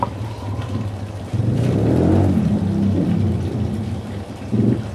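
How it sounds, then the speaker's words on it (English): A motorbike passes outdoors near a garden, a broad rumbling swell that rises sharply, holds for a few seconds, then fades. "I'm competing with a motorbike"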